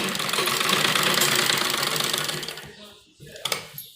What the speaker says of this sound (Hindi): स्टोन से बचाते हुए हम सिलाई लगाएंगे।